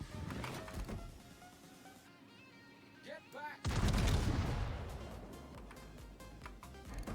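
Main guns of the British battleship HMS Vanguard fire in World of Warships, a heavy low boom at mid-clip after a quieter stretch, with gunfire and rumbling around it and talk over parts of it.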